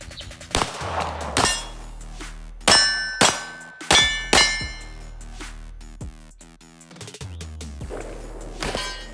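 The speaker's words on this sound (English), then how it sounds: "The Kimber, custom LW. So we do the same thing, 6 shot." Six sharp gunshots from a Kimber Custom LW 1911 pistol ring out loud and close with uneven spacing. Several come in quick pairs and each one leaves a short metallic ring.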